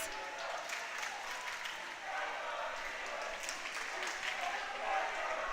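A crowd of spectators from both teams cheers and claps at a boys' varsity swim meet in an echoing indoor pool hall, a continuous roar with a commentator's voice running over it.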